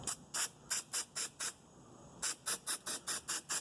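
An aerosol can of spray adhesive sprays in a series of short, rhythmic bursts on a 1985 Mercedes 300SD, about a dozen hissing puffs, close and fairly loud with a brief pause midway.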